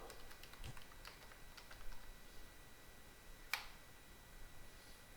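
A password is typed on a computer keyboard during a Windows Server 2019 installation, with a quiet scatter of individual keystrokes and one sharper key click near the end.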